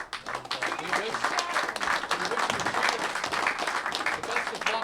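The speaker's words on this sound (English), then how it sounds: "Give a round of applause." Audience applause at the finals of the Gotham City 9-Ball Pro Classic pool tournament: dense, steady clapping from a crowd that holds at an even level for the whole stretch.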